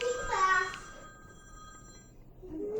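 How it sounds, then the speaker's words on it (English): A telephone rings indoors at home, a bright electronic warble near the start that fades out, with a voice and household background around it. "Walks in the door, phone starts going off."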